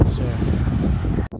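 Strong wind buffets a microphone beside Arizona Highway 98 in a continuous low rumbling roar, and a voice says a single word before a brief cutoff.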